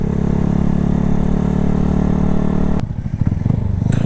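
A 2017 Yamaha YZF-R125 motorcycle ridden through city traffic, its engine droning loud and steady up close before suddenly dropping off into quieter idle and clatter.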